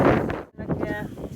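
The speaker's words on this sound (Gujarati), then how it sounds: "પવન બહુ આવે" Strong outdoor wind blows during millet winnowing, a brief rough buffeting rumble with a short lull in the middle.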